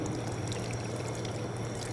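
Water poured over the feet during wudu ablution washing, a continuous close splashing pour that holds steady and even throughout, with no talking.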